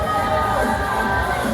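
A crowd at a Hong Kong film premiere cheers and shouts together in a dense, sustained wash of voices, loud and close throughout.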